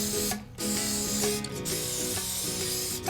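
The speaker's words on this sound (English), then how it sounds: "we're going to spray the inside of our mold with some cooking spray" Cooking spray hisses from an aerosol can into a concrete mold, several short bursts separated by brief pauses, close and fairly loud, with no voices.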